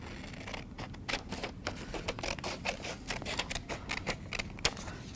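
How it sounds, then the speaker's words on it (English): Scissors snip through paper to cut off a triangle piece, a quick run of crisp, close cutting strokes and rustles in an otherwise quiet room. "we're going to cut off that triangle piece"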